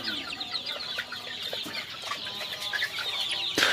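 Chickens on a poultry farm, including a bird showing paralysis-like weakness, cluck and call continuously at close range, with many overlapping bird sounds forming a busy flock chorus and no talking.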